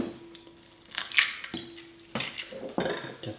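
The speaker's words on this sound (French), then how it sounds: "dans un saladier, je vais mélanger mes œufs" Eggs are being beaten in a mixing bowl, heard as close, intermittent clinks, scrapes and wet sloshing bursts in an irregular rhythm, fairly quiet, with no talking.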